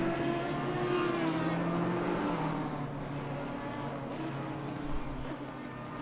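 Porsche GT3 race car engine at Suzuka in a racing game, a steady sustained drone with harmonic whine that holds throughout, fading slightly as the car moves away, with a brief low thump near the end.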